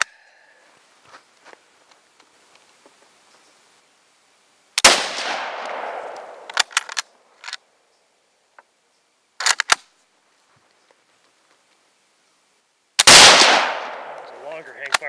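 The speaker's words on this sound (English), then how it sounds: "There's a longer hang fire, that one." Rifle shots fired outdoors at a target with ammunition prone to delayed hang fire, two sharp loud cracks several seconds apart with ringing decay, plus scattered faint clicks and small handling noises in between.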